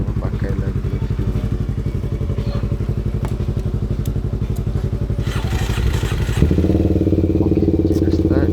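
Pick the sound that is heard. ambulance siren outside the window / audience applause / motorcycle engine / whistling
motorcycle engine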